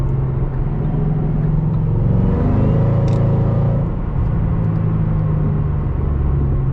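A 2014 Shelby GT500 with Borla exhaust drives along, its deep, steady rumble filling the whole stretch with a brief swell of revs midway and a constant close engine drone.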